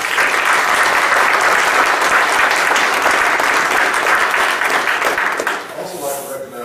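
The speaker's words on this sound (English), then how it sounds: "Give them a round of applause." Dense, sustained applause from the audience at a Cleveland County school board meeting, a loud, steady roar of many hands that thins and fades out near the end.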